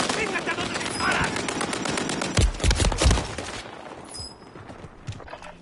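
Gunfire in the video game Warzone, rapid bursts of shots with several loud cracks close together, heard mid-match amid busy game noise.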